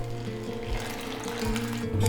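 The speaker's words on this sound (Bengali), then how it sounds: "মিশানো হয়ে গেলে দিয়ে দেব রুম টেম্পারেচারের পানি" Room-temperature water is poured into a bowl of donut dough mixture of flour and yeast, a continuous close-up trickling splash that swells slightly toward the end, with no talking.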